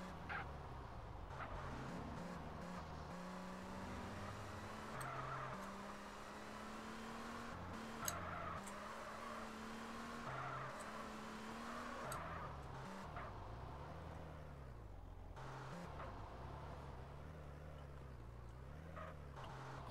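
A car engine in the video game SA-MP revs and climbs in pitch as it accelerates, heard fairly quietly with a steady, continuous drone and several shifts in tone.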